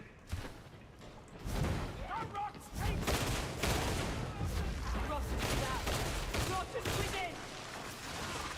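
Busy combat in the video game Darktide, with a grenade explosion among rapid gunfire, thuds and blasts, all dense and continuous under in-game voices.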